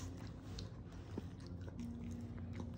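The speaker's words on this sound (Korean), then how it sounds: "사료를 이제 좀 먹자." Small dog eating kibble, quiet soft crunches and chewing at close range over a low room hum, with a few faint taps.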